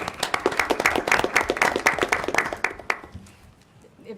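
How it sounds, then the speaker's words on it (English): Applause breaks out at a school board meeting for Ms. Ramirez, a modest group of hands clapping in quick, distinct bursts for about three seconds before it fades to quiet room noise. "So round of applause for Ms. Ramirez."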